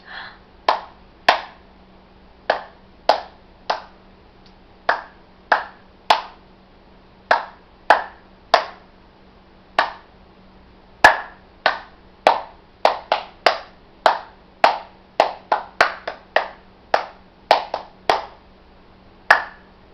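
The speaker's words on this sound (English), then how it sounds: "Clap it out." Hands clap out a rhythm for a children's recorder lesson on the song "It's Raining": about thirty crisp, close claps in an uneven pattern of steady beats and quicker pairs, alone with no talking.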